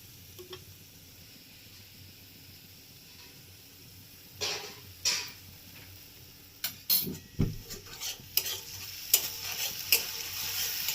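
Soya chunks in chilli paste sizzling as they are stir-fried in a pan, a soft steady hiss broken by a series of sharp scraping and clinking strokes of a utensil against the pan, growing more frequent toward the end.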